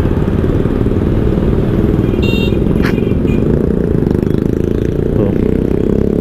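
An oncoming motorcycle passes on a road, heard against loud, constant road and engine noise from the riding vehicle, with a brief scraping clatter in the middle and no one speaking.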